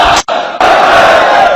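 A large audience at a religious sermon roars a slogan back in unison, a loud, dense burst of shouting voices, briefly cut off and then resuming as a sustained collective chant.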